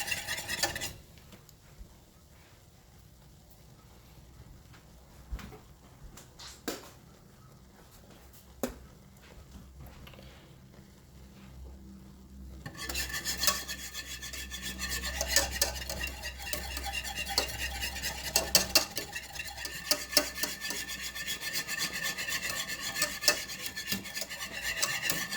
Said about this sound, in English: Keep whisking on it.